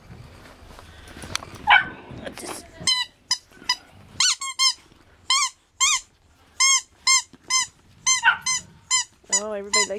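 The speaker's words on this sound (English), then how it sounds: "Everybody likes a squeaky." Puppies at five to seven weeks old play with a squeaky dog toy, producing a rapid run of sharp, repeated squeaks with small dog whimpers and yips, while a person talks softly to them early on.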